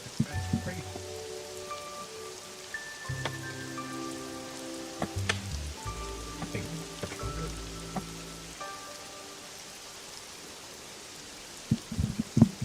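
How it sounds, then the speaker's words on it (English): A thick, continuous hiss of heavy rain beats against a window through a thunderstorm, running steadily throughout beneath brighter tonal game music and chimes, with a few sharper knocks near the end. "The rain's like crashing down inside my window right now."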